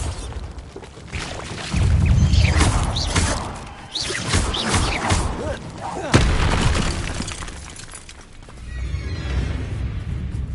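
A Bombarda spell detonates in Hogwarts Legacy, a loud booming blast with crashing debris bursting out over game music and effects, followed by a second sharp impact and a fading rumble.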